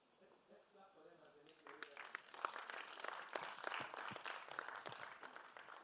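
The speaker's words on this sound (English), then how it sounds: "I'm hearing people who have stopped clapping." Audience applause at a regional women-in-data summit, a dense, sustained patter of many hands clapping that swells after a quiet start with faint voices, and stays steady and fairly distant throughout.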